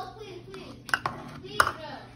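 Spoon tossing a tomato, cucumber and avocado salad in a bowl, a few sharp clinks and scrapes of utensil against dish amid soft kitchen sounds, with a voice speaking quietly.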